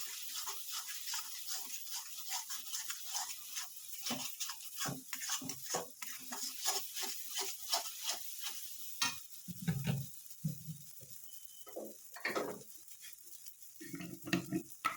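Green peas are stir-fried in a kadai until dry, with rapid scraping stirs in a quick rhythm over a soft sizzle, followed by a few louder utensil knocks.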